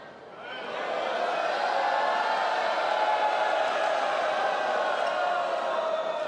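Indoor badminton arena crowd in a Macau Open final, a steady loud murmur of disgruntled voices rising after about half a second and holding throughout, with no clear cheering peaks.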